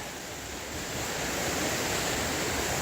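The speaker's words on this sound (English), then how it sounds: "And here's a creek coming out of it." A creek flows out of a waterfall in Southern California, giving a steady, dense rush of water that swells slightly louder after the first second and holds alone without pause.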